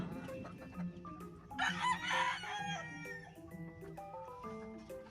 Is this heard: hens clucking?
yes